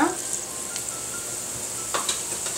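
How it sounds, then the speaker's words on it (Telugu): Cumin seeds frying in a pan for egg kurma, a steady close sizzle with faint stirring clicks, heard alone with no voices. "జీలకర్ర వేగిపోయింది"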